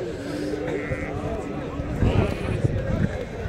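Sheep and ewes bleat at a Tuesday livestock market in Azrou, their calls scattered through a busy crowd of people talking nearby, with shuffling and trampling hooves.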